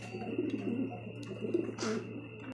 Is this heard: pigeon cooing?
yes